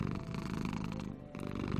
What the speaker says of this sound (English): Your poor kitty's out cold.